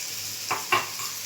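A spoon scrapes twice through a pan of frying gravy seasoned with a little salt, two short stirring strokes over a steady soft sizzle, close and moderately quiet.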